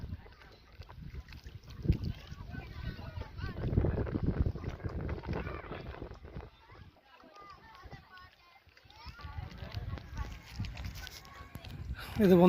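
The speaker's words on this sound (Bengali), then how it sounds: "দেখেন কি পরিমাণ বাতাস আসছে" Strong gusty wind buffets the microphone beside a full river during a fishing trip in Rajshahi, a broad low roar rising and falling in long surges, with people talking now and then.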